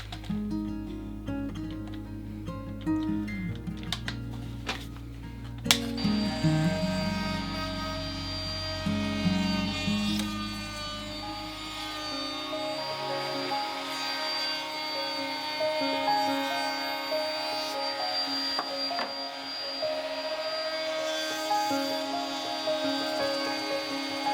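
A router rounds over the edges of wooden bench arm rests, a steady high whining buzz that runs continuously and fairly loud, with a lower rumble early on that drops away midway.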